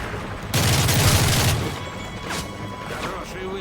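A burst of rapid video-game gunfire lasting about a second, loud and close, followed by lingering ambient game noise and faint background talk.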